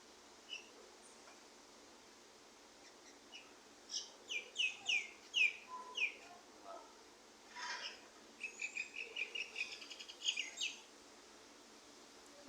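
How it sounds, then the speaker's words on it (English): Birds chirp in scattered bursts of quick, high tweets, some close and some farther off, over a faint hushed background. "If you hear a bird chirping, it's him."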